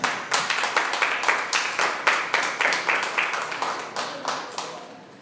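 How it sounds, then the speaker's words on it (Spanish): A church congregation claps steadily together in rhythmic, fairly loud applause that gradually fades toward the end. "Dale un aplauso al Señor."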